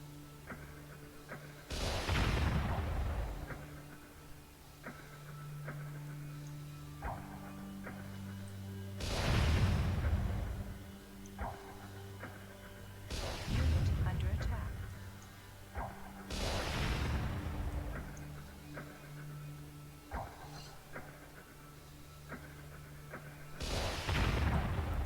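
Artillery fire in the real-time strategy game Warzone 2100, with repeated heavy booms at irregular intervals of several seconds, each with a rumbling decay, over a steady low hum of game noise.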